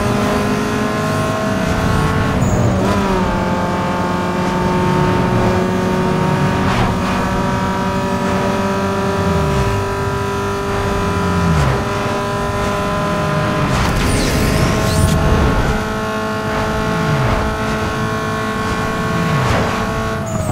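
Loud, sustained car engine racing in Need For Speed Underground 2, several steady harmonic tones holding high revs. Brief gear-shift dips and drops around a third and later in, with no talk over it.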